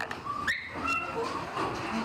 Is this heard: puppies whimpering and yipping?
yes